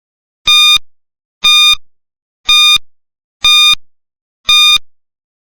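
Quiz countdown timer beeping five times, evenly spaced about once per second, each a loud, clear electronic tone with silence between beeps.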